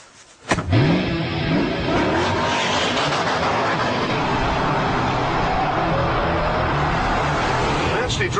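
A Ford GT40 sports car starts off and drives away, its engine rising sharply after a quiet moment and then holding a loud, steady roar with the sound of tyres on the road.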